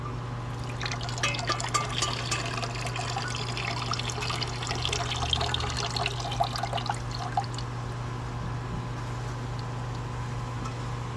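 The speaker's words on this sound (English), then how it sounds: "Strain them off in the sink, you know, outdoor style." Water drains steadily in a sink as boiled ackee is strained outdoors, a continuous close rush and trickle that runs for several seconds with no talking.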